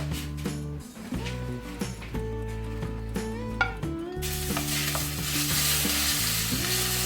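Minced garlic frying in olive oil in a hot wok for a tofu stir fry, crackling sizzle under clattering utensil knocks and tonal clinks, the hiss swelling louder partway through.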